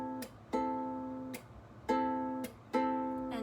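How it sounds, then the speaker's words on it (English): A ukulele alternates between plucking all strings at once and a sharp percussive slap that mutes them. The pattern repeats three times, quiet and close, with short ringing chords and no voice. "Basically what you're gonna do is pluck all strings and slap."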